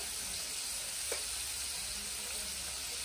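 Seasoned meat filling frying in a pot gives a steady, loud, even sizzle, with one brief scrape of a spoon partway through.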